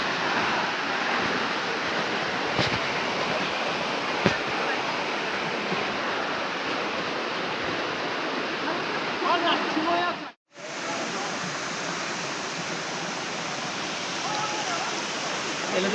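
The waterfall at Astara Dustaqxana pours in a steady, broad, full rushing roar that goes on without a break, except for a split-second dropout in the sound partway through.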